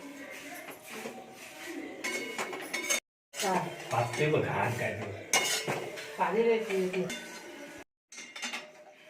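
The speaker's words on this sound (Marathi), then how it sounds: "आता हे कढईमध्ये जेवढं जमेल तेवढं शेकवून घेतोय" Metal scraping and clinking in a kadhai as dry poha is stirred and roasted, with intermittent voices talking nearby.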